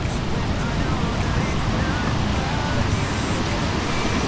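Sea waves at high tide on Cox's Bazar beach roar in a steady, loud wash of surf close to the shore, with wind buffeting the microphone throughout.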